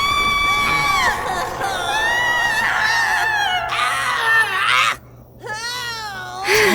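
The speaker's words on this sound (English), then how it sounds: "Damn, that is screaming. Fantastic voice acting." Shrill, drawn-out cartoon screaming from animated voice acting, several overlapping high wavering cries held loud and continuous for most of the stretch, with a brief drop near the end before the yelling resumes.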